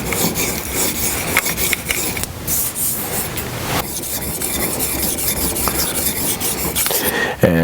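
Continuous gritty scraping of scissor blades being sharpened to set a ride line, with brief gaps and shifts in pressure, close up and without voices.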